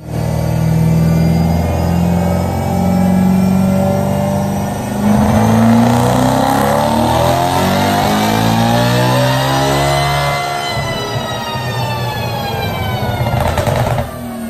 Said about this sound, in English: BMW M3.